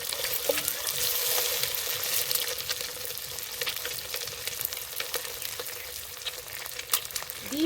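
An egg fries in oil in a pan, giving a steady close sizzle with scattered crackles and spatters and a few light scraping sounds, and nobody speaks.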